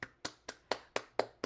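A single person clapping hands seven times in quick, even succession, close and fairly soft, with no other sound.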